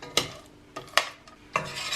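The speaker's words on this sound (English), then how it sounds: "continuously whisking until the chocolate and butter have melted" Chocolate and butter are whisked together as they melt in a pot on the stove for brownies. Three distinct scraping strokes of the whisk against the pot sound close and moderately loud, with no talking.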